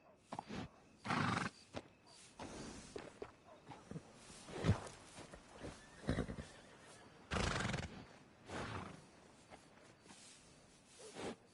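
Horse in the video game Red Dead Redemption 2, near a stable: several loud neighs and whinnies in separate bursts, with snorts and clip-clopping hooves and footsteps between calls.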